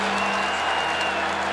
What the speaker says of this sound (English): You can sense this crowd. They're trying to give their defense something.